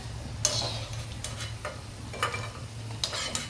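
Okra bhaji frying in a little oil, a soft steady sizzle with a few brief stirring scrapes, close and fairly quiet.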